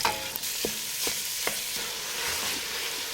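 Ground beef and onion frying in a pan on a low to medium flame, with a steady soft sizzle and a few light clinks and scrapes of stirring throughout.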